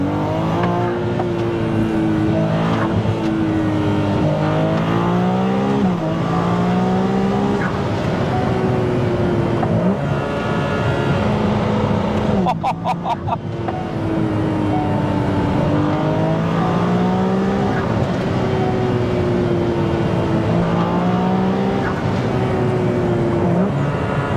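A Ferrari 296 GTS hybrid accelerating hard with its rear wheels spinning, engine pitch climbing loudly through several upshifts in repeated waves, with a brief crackle mid-run.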